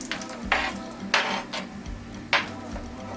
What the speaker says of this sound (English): I'm gonna go ahead and add my tomato,